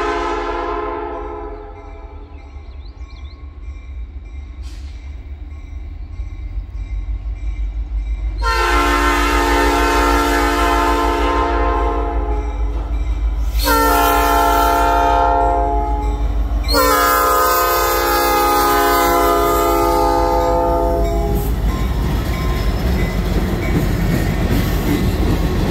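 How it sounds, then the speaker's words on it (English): An Algoma Central freight train departing Ladysmith Yard, its low diesel rumble swelling as the horn sounds loud, close blasts, the longest ones lasting several seconds each, over steady engine and rail noise. "563 is just now departing Ladysmith after doing sit-outs in Ladysmith Yard."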